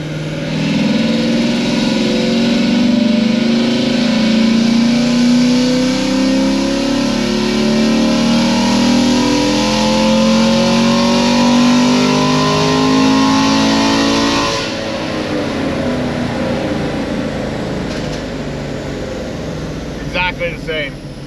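LT1 V8 engine on a chassis dyno, roaring loudly under sustained wide-open throttle with pitch climbing steadily, then cutting off abruptly to a fading wind-down and a few clicks.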